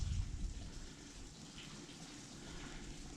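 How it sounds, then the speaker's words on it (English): Running water at a source in a southern Minnesota marsh, a steady close gushing wash with low rumble throughout, no voices. "as you can hear, right next to me is a water source"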